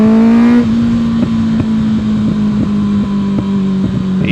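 A Kawasaki ZX-6R motorcycle with its stock exhaust drones close by at steady cruising revs, a low engine hum with rhythmic pulses and wind rush around it.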